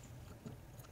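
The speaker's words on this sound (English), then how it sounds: "You're a very loud eater." A cat eating loudly at close range, with a steady run of wet chewing and biting sounds and no voices over it.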